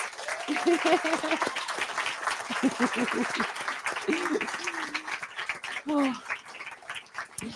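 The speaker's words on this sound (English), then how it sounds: "I want to give you a massive, massive round of applause" Audience applause at the SohoLIFF 2021 film festival awards ceremony, a moderate spread of clapping that swells and fades, with voices talking over it through much of the stretch.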